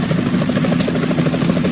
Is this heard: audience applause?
no